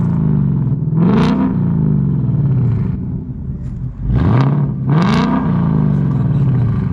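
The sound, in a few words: 2018-19 Mustang GT exhaust with resonator delete and H pipe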